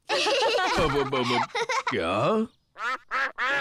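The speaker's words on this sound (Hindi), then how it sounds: "बतखों को और खाना चाहिए।" Cartoon ducks quack in lively bursts in an animated children's show, loud and close, mixed with chuckling and a brief spoken word between the calls.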